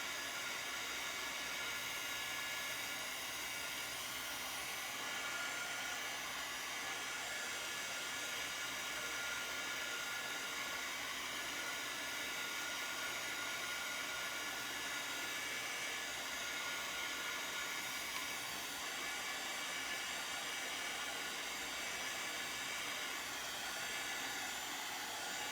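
A hair dryer blows steadily on drying paste for the whole stretch, a constant close whooshing hiss with no breaks and no voices.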